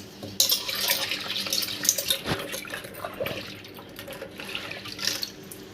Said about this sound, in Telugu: ఒకసారి మనము కందిపప్పు మిర్చి శుభ్రంగా కడుక్కుందాము